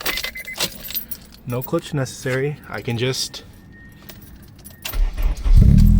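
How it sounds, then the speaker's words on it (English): Keys jangle near an Acura RSX Type S with a deleted clutch switch, left in neutral, as someone talks over them; then the engine turns over and catches at the end, a loud low rumble rising. "start the car"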